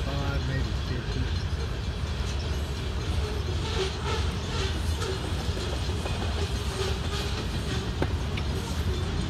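A loaded CSX grain freight train of about 45 to 50 cars rumbles past nearby in Missouri, with steady clickety-clack from the wheels and a constant low roar throughout.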